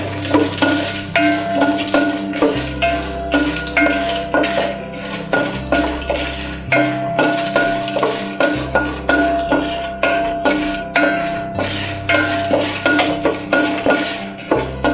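Peanuts and chana dal roast in hot oil in a pan for lemon rice. A spatula scrapes and clacks in a steady repeating rhythm over a low sizzle, close up and with no talking.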